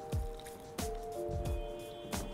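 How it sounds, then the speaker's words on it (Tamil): Small splashes of water going into a spiced broccoli batter, a few wet squishy drips and dribbles spaced out over a couple of seconds, close and fairly soft with no talking. "கொஞ்சோண்டு தண்ணி மட்டும் ஊற்றிக்கலாம்"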